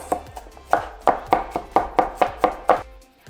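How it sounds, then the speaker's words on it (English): A knife mincing garlic cloves on a cutting board in quick, even, close chops, about a dozen crisp knocks in a steady rhythm with no talking. "And then just give it a quick mince"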